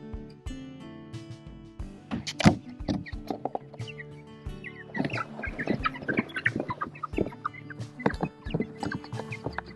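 Red Ranger and Cornish cross chickens kept in separate netted pens cluck and squawk in overlapping bursts, close and fairly loud, with a steady background hum under the birds.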